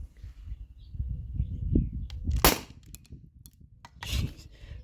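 An HPA-modified T4E HDP50 pistol running a 900 PSI setup fires a 1.4 gram nylon ball, giving a sharp metallic crack midway and a second burst near the end over low rumbling handling noise, close and alone.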